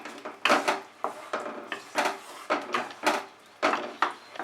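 A metal lid clatters onto a cooking pot of simmering jujube (kul) chutney, making a series of quick, close knocks and scrapes in an uneven rhythm.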